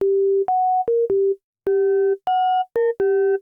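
A sequence of pure electronic sine tones from a Yamaha Reface DX FM synthesizer, each held briefly at a different pitch with short gaps, the later notes gaining faint overtones.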